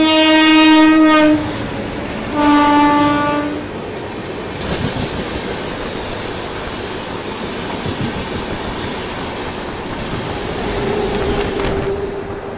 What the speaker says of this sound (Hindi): सीआर राजधानी जो है वो हमें ओवरटेक करने वाली है